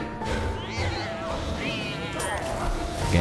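Cat meowing in the video game Don't Die, Minerva!, with rising, wavering calls over loud, busy game sound while a person talks.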